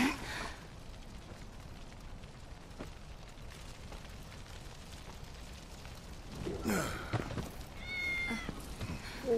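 A cat in the Final Fantasy 7 Remake video game gives a few soft meows near the end, faint against a quiet, hissy game background.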